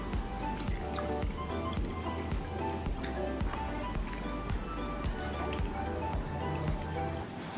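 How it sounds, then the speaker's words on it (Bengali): Raw pork being washed in water by hand, continuous sloshing, dripping and squishing with a dense, close, busy texture throughout. "এই যে আমি নিয়ে নিয়েছি মাংসটাকে আমি এখন ধুয়ে নিচ্ছি।"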